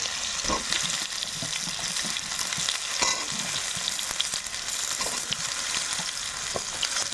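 Sliced ridge gourd and potato sizzle in hot oil in a pan, a steady crackling fry broken by scraping, clattering stirs throughout.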